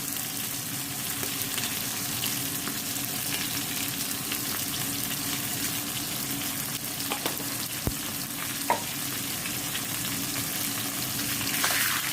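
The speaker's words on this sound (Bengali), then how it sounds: "মাছটা একটু লাল লাল করে ভাজি" Fish fries in oil in a pan for a green fish curry, with a constant crackling sizzle and a few stirring clicks close by, no voices.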